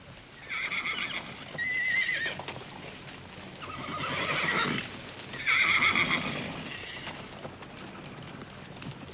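Repeated loud whinnies from a black gelding close by, three drawn-out calls separated by pauses, with a faint background of hoofbeats and no talking.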